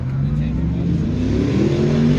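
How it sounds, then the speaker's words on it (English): A truck and a Ford Mustang drive past at a JDM car meet, their engines revving in a steady, loud, low drone throughout, with some voices mixed in under the engine noise. "comes the truck and our Mustang back around."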